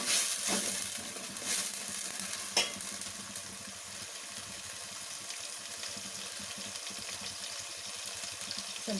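Finely chopped tomato sizzles in a pan of oil as the base for Chettinad chicken gravy, a steady frying hiss with occasional stirring scrapes and small pops.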